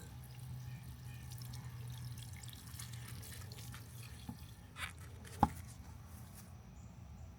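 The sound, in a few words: watering a container garden plant, water soaking and dripping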